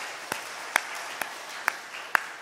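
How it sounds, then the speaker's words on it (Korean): Sparse, scattered hand claps from a church congregation during a Sunday worship service: about five separate claps spaced irregularly over a soft background hush, fairly faint and without a dense burst of applause. "유튜브에서 예배하는 분들을 위해서 격려의 박수 주시기 바랍니다"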